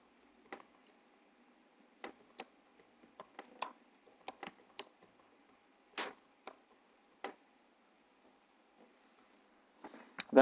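Scattered keystrokes tap on a computer keyboard during a trading card game tournament livestream, faint, irregular clicks in short clusters separated by quiet gaps.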